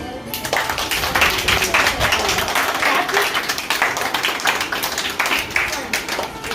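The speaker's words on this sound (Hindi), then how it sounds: "तालियां।" Family members clap at a Father's Day cake-cutting at home, continuous lively clapping close by with voices talking underneath throughout.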